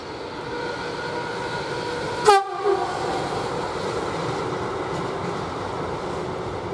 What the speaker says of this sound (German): Doppelte ÖBB Vectron mit einem extrem lauten Makro.